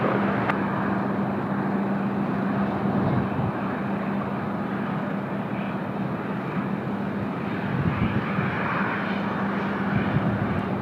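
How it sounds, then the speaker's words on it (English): A jet airliner takes off from a Sydney Airport runway, its engines giving a loud, steady, broadband roar with a low droning hum that holds for the whole stretch, with no talking. "Qantas 790, runway 16 right, clear for takeoff."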